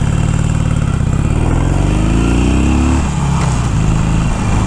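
A stock Harley-Davidson motorcycle, either an Iron 883 or a Fat Bob, pulls away with a loud, close V-twin roar that rises in pitch through a gear and then eases off.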